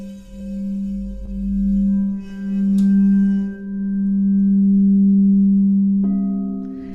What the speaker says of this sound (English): I'm going to play for you this C bowl